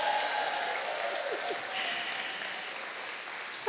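An audience claps and cheers in a dense, steady wash of applause at an event in a hall, loud and sustained for the whole stretch, with scattered whoops on top.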